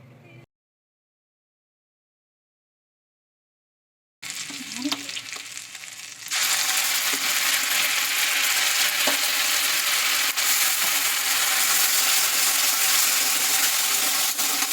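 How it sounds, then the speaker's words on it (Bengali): Halved eggs frying lightly in oil give a loud, steady, close sizzle that starts after a brief silence and swells to a dense, continuous hiss for the rest of the clip. "এবার ডিমগুলো মাঝখান থেকে কেটে হালকা করে তেলে ভেজে নেব।"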